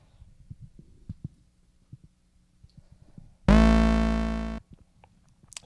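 An Arturia MiniBrute synthesizer patch with the filter cutoff halfway plays one sustained, buzzy, harmonically rich note that rings loud for about a second and slowly fades. Soft clicks and handling noise come before and after it.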